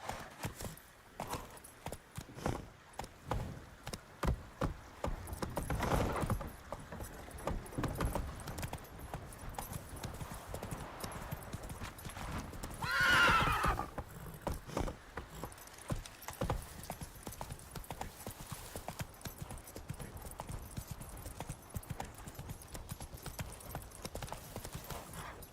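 Roach the horse gallops in The Witcher 3, a long run of rapid rhythmic hoofbeats with jingling tack, a loud neigh rising midway, the whole thing up close and continuous.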